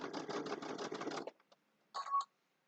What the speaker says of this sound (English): let me just get it started sewing so I have another hand here